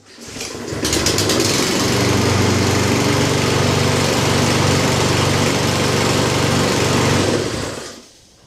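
A GTM LM53-SP-V petrol lawn mower engine catches after a pull and runs loud and steady at a buzzing drone, then cuts off abruptly near the end.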